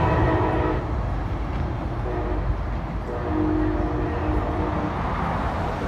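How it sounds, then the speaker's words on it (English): A Brightline passenger train heading northbound in South Florida, a loud close rumble of passing rail cars with a sustained horn tone partway through, no talk. "There goes bright line. Northbound."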